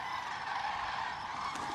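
Flock of thousands of migrating demoiselle cranes wintering around the desert village of Khichan in India, heard as a dense, continuous wall of overlapping honking calls, loud and steady throughout with no talk.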